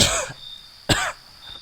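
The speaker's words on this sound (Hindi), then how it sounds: "अंदर से खांसने की आवाज आई" Coughing from inside a house in a Hindi audio crime story, two close, loud coughs with a short pause between them.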